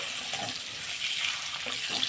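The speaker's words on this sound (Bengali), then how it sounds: "এইবার ডিমটাকে একটুখানি হালকা করে আমরা ভেজে নেব ভেজে ডিমটা তুলে নেবো" An egg fries lightly in oil in a kadai, giving a steady, even sizzling hiss up close without pauses.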